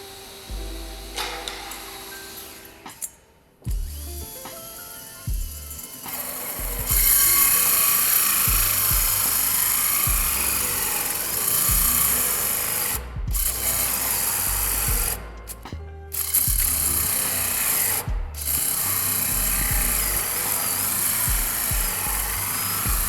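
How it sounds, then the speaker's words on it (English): A hole saw cuts 127 mm and 122 mm ventilation holes through the wall of an outdoor sauna, giving a steady whirring drill drone that runs for most of the stretch with several brief stops and restarts. "Cut the ventilation holes in the walls with a diameter of 127 millimeters and"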